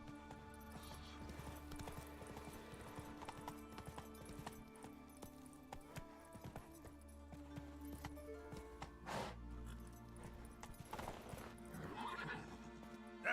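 Geralt's horse Roach in The Witcher 3 gallops with quiet, rhythmic hoofbeats, broken by a couple of whinnies and snorts over a low background.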